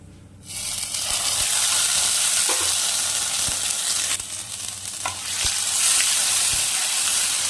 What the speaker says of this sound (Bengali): তেলটা গরম হয়ে গেলে অল্প পরিমাণে দেব একটু কালো জিরা ফোড়ন কালো জিরাটা দিয়ে এখন এর মধ্যে দিয়ে দেব বেটে রাখা মশলাটা